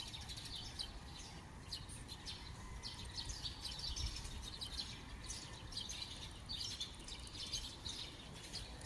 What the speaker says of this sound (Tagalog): naririnig niya mga iba't ibang ingay gaya ng huni ng ibon